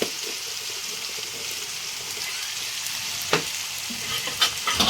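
Bitter gourd curry being stirred in a pan with salt, a steady close sizzle with soft scraping and a few clinks near the end.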